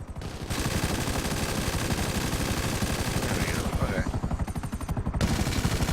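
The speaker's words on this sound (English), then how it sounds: "Oh, machine gun." Continuous rapid machine-gun fire in GTA V on PC, a dense unbroken stream of shots lasting the whole stretch, loud and close, with a brief change in tone partway through.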